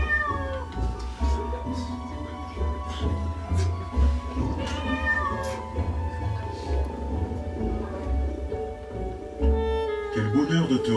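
A cat meows several times in a film scene, clear and fairly close, its calls rising and falling, with voices and other soft sounds in the background.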